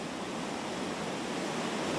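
A massive waterfall roars as a dense, continuous broadband rush of falling water, steady and enveloping for the whole moment with no voices.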